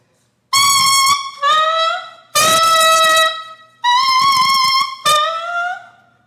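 A saxophone mouthpiece with its reed, blown alone without the instrument, gives five shrill, piercing squawks in quick succession, each a bright buzzing tone held about a second, with short gaps between them.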